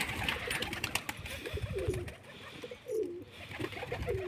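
Pigeons coo softly in a series of low, rolling calls over a faint, steady background hiss, with no voices.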